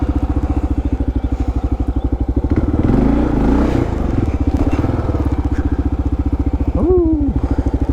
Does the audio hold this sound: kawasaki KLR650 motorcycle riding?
yes